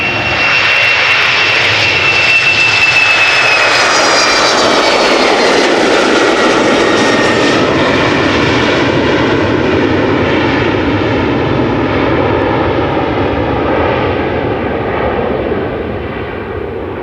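An Embraer 190 jet departs Amsterdam Schiphol bound for Göteborg, a loud, close, sustained engine roar with a high whine that holds steady and only starts easing toward the end.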